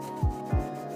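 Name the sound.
smoothing a cut in car plastic with a fibre scouring pad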